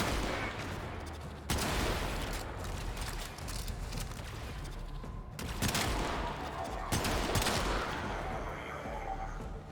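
Bursts of rapid video game gunfire crackle through a dense, noisy soundscape, with several loud volleys starting abruptly and sustained automatic fire rattling on, apparently from a livestreamed game.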